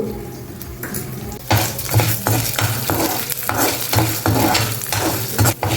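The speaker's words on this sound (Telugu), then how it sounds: "చక్కగా దగ్గర నుండి వేయించుకోండి సిమ్లో పెట్టి వేయించుకోండి" Chana dal and urad dal frying in oil on a low flame while a spoon scrapes and stirs, steady sizzling with repeated close metallic scraping strokes against the pan.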